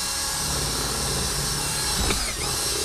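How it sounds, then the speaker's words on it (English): A power drill with a 3/8-inch bit runs continuously with a loud, steady whir close by, its tone dipping briefly near the end as the bit bites into material. "That one was a 3/8 of an inch drill bit."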